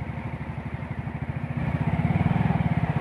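A motorcycle engine idles nearby on a jungle trail, a steady low rhythmic putter that swells slightly louder toward the end.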